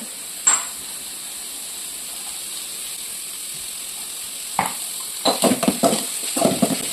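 Food sizzles in a pan with a steady, close hiss as salt goes in during a fry. Bursts of clattering stirring break in toward the end.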